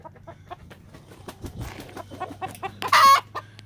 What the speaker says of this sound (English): Two young pullets and my white rooster.